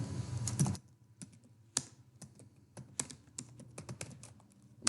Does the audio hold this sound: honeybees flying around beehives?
no